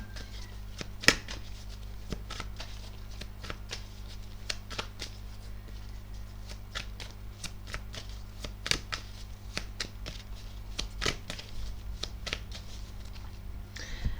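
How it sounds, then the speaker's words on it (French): Tarot cards are shuffled by hand, with soft riffling and repeated sharp taps and slaps as cards fall onto a surface, quiet and close. "Il y a beaucoup trop de cartes qui tombent en ce moment."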